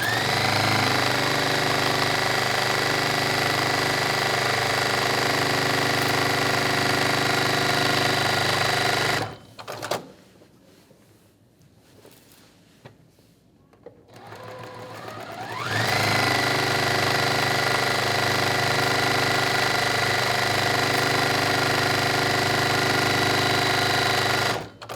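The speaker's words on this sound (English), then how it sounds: "Now here I am gonna sew fast" A sewing machine stitches quilt block seams at high speed, a loud, steady mechanical whirring drone that cuts out for about six seconds, leaving quiet handling noise, then starts again and runs on continuously.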